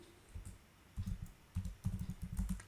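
Close, quiet typing on a computer keyboard while writing Python code, with bursts of quick key clicks separated by brief pauses.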